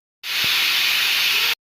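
Steam bursts from a pressure cooker of toor dal, a loud, steady hiss that starts abruptly, holds for over a second and cuts off sharply.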